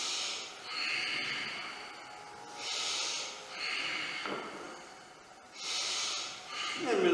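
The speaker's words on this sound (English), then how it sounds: "we'll hold here and take some deep breaths" Deep, steady breaths taken while holding a seated yoga pose, four airy inhale-exhale cycles in a regular rhythm, close and fairly soft.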